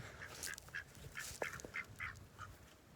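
Two backyard farm ducks, one white, give soft short calls in a quiet yard, a handful of faint separate notes spread over a few seconds with no talk.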